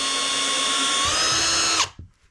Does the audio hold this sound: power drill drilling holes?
yes